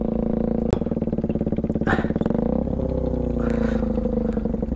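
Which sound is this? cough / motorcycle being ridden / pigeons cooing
motorcycle being ridden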